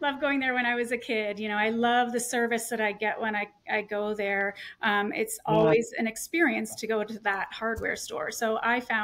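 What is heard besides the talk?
None of the usual background noises is heard.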